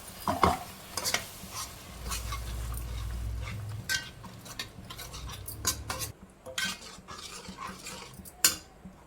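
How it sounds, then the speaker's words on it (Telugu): Paneer masala in a pan sizzles as water is poured in and stirred, with repeated clinks and scrapes of a spoon against the vessel throughout, alone and fairly close. "ఇప్పుడు మిక్సీ జార్లో కొన్ని నీళ్ళు తీసేసుకొని వేసుకున్నాం."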